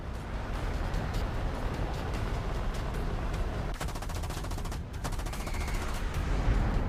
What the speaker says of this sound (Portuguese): Sitik conseguiu abrir fogo mais uma vez